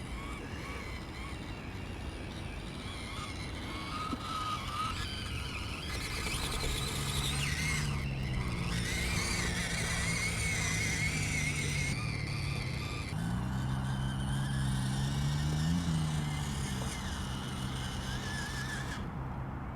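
A mini FCX24 Unimog RC crawler drives through water, its small motor whining steadily with shifting pitch and splashing, a continuous close sound with no talk.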